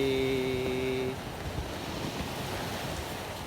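Wind buffets the microphone and surf washes steadily at Pantai Angin Mamiri, a beach in the Tanjung Bunga area, a continuous broad rush after a brief tonal sound at the start.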